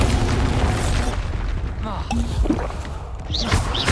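Confringo and Bombarda spell blasts in the Hogwarts Legacy video game, booming bursts and pops going off during a busy magical fight, mixed with shouted spell voices.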